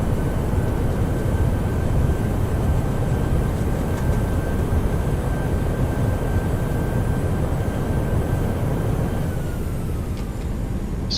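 A PMDG 737NG running reverse thrust during its landing roll in Microsoft Flight Simulator, a loud continuous broadband jet roar with a thin steady whine on top, holding level for the whole stretch and easing slightly at the end.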